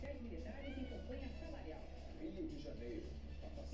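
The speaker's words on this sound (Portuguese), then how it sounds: "E por que você tá miando?" Cat meowing repeatedly indoors, several short plaintive calls close by, mixed with people talking.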